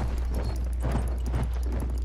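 Horse hooves clip-clop in a steady rhythm in the first-person shooter Battlefield 1, set over a constant low rumble of engine and battle ambience.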